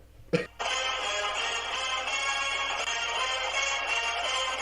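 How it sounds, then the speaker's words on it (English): A phone ringtone plays as a sustained, busy electronic melody after a brief burst of noise at the start, fairly close and with no talking over it. "That's your ringtone."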